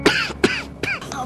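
A man with a worsening illness coughs four times in quick succession, close and loud, each cough a short harsh burst with a rasping tail and brief pauses between.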